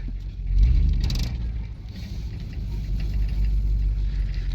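An old GMC truck with a 5.3 engine and a busted exhaust idles roughly nearby, a steady low rumble with a brief knock early on.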